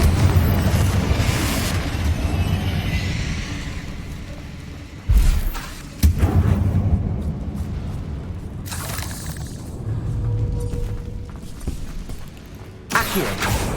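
Fire spell explosions in the Hogwarts Legacy video game burst out as a few heavy booms with crackling, shattering debris over a rumbling low background, separated by quieter stretches.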